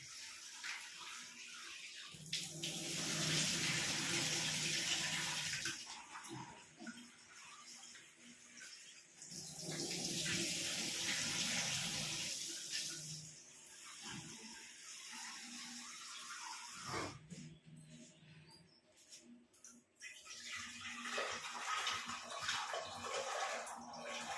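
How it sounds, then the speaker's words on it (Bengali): Soaked chickpeas being washed in a pot under running tap water, with long bursts of gushing, splashing water broken by quieter pauses, heard close up and without talk. "ধুয়ে নিই দুবার ধুয়ে ভিজিয়েছিলাম আর একবার ধুয়ে নিই"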